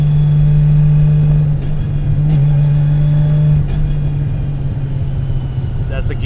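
A straight-piped 750HP Nissan R32 Skyline GT-R with a sequential gearbox rumbles loudly from inside the car, its engine droning at a steady pitch before it drops and revs again, with voices talking over it.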